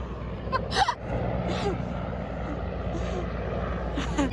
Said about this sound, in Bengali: হেলিকপ্টার যাচ্ছে আমাদের মাঠে এসছে